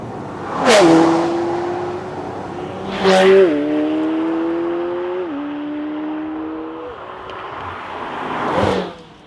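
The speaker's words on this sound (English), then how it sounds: "that glorious V8 behind me" A McLaren 720S Spider's twin-turbo V8 revs behind the driver with the roof off, three sharp blips rising and falling in pitch, with a lingering drone between them, close and loud.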